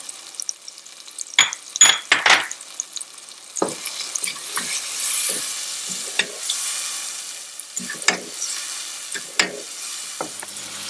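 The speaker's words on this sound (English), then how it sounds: "I'm going to cook this tomato mixture until I evaporate all the juices from the tomatoes" Tomato mixture seasoned with salt, cayenne pepper and turmeric frying in a pan for a spicy gravy, with close scraping stirs and steady soft sizzle, louder bursts of stirring early then lighter scrapes throughout.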